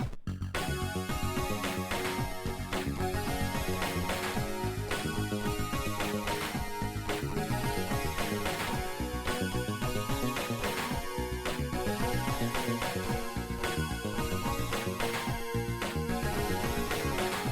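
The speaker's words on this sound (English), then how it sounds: "now I want to be able to add some sort of chord progression element to it" A chord progression plays on a Sonicware Liven 8bit Warps synthesizer, a dense, steady chiptune-style pattern of sustained chords and rhythmic notes running continuously and loud throughout, with no talking.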